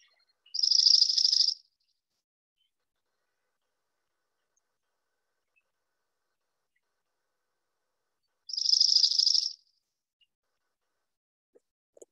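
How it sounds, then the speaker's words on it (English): Two short dry rattling trills of a dark-eyed junco song, each about a second long and separated by a long silence, clear and fairly close with nothing else around. "here's the song of the dark-eyed junco, which is this kind of like dry rattle"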